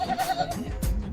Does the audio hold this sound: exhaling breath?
no